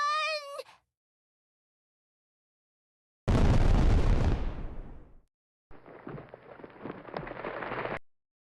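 Explosion from a digging machine blast in the Trickcal Revive game: a short cartoonish meow-like cry, a pause, then one loud booming blast that rumbles and fades, followed by crackling, settling debris.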